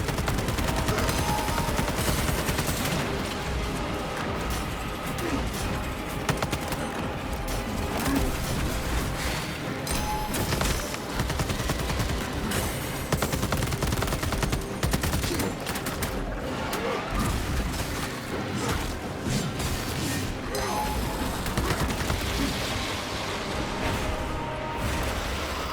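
A sustained gunfire exchange in Space Marine 2, dense overlapping automatic fire and impacts rattling continuously at steady loudness with battle noise throughout, no distinct talk.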